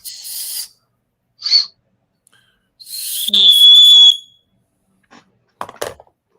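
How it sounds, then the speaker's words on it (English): An emergency whistle blown a few times, short shrill blasts including one longer sustained tone, loud and close, separated by silence, with brief voice sounds between. "Emergency whistle."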